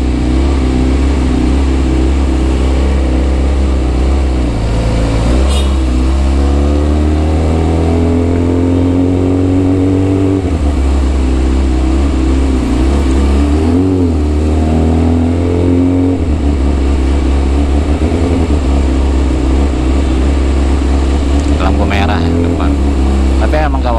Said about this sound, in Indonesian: macetnya siang gak tahan.